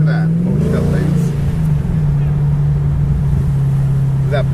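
Low, steady engine rumble with a burbling exhaust note from a car at a historic racing event at Lime Rock, close and loud, with talk over it.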